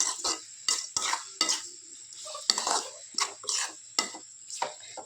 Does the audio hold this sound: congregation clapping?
no